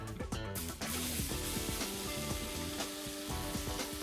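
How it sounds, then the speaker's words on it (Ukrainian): Marinated pork ribs sizzle loudly and continuously in a very hot wok, with a few clatters of stirring and a steady hiss throughout. "Тому я просто кладу їх в вок і обсмажую."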